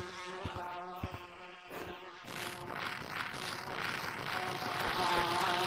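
Bees in the Gorilla Tag VR game buzz as they chase the player, a loud, sustained insect drone that thickens and grows louder toward the end after a few sharp taps.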